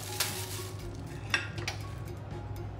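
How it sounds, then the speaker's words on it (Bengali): Popcorn kernels cook in a pan on a stovetop, giving a steady low hiss with occasional sharp clinks and light scraping against the metal. "পপকর্ন ভাজছি, সসের পপকর্ন বানানো হয়েছে, এখন একটু ডিফারেন্ট ট্রাই করতেছি"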